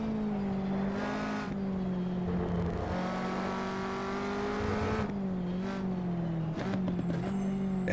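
A Caterham 360R engine at full throttle in the Automobilista racing game at Cadwell Park, a loud steady drone that climbs in pitch with brief dips at gear changes.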